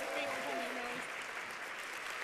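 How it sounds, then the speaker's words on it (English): Applause from a keynote audience at an office conference, broad steady clapping filling the room, with a voice speaking briefly over the start. "Round of applause for these brave souls."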